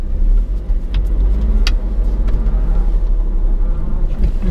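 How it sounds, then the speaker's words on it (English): A 1993 Honda Today engine rumbles loud and close as the small car is driven into a garage, a steady low drone with a few faint clicks and knocks over it and no talk. "I'll pack the car back in the garage."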